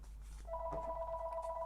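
An indoor telephone rings, a faint steady electronic two-tone ring that starts partway through and continues, with a brief knock just after it begins.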